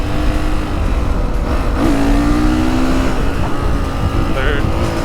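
A motorcycle engine pulls hard in second gear, recorded loud and close from a chin-mounted GoPro, its rising drone smeared with heavy wind buffeting throughout, and a faint voice briefly audible under the roar.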